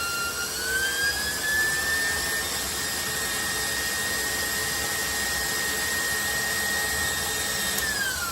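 An electric mixer beats Italian cream cake batter with a constant high motor whine and rushing whir, steady and close for several seconds with no voices.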